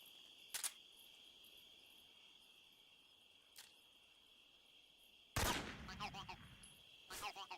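Gunfire in the stealth action game Metal Gear Solid: two sharp shots a few seconds apart over a steady insect-like buzz, then a burst of rapid firing and clatter near the end.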